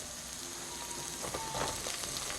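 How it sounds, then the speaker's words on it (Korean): Shishito peppers stir-fried in a hot pan give off a steady, close sizzle, with brief louder crackles near the end and no voices. "바로 꽈리고추를 한번 볶아 보겠습니다."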